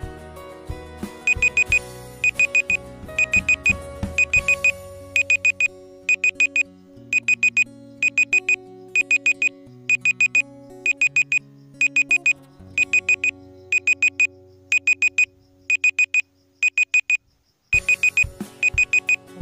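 A countdown timer for a 30-second classroom activity plays a steady run of rapid, bright beeping bursts at a regular pulse over a low electronic tune, briefly cutting out near the end before the beeping resumes.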